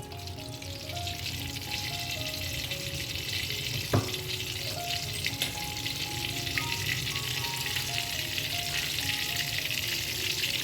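A spoonful of ghee melts into hot oil in a pan, a steady, even frying sizzle with one sharp click partway through and a faint tonal hum underneath.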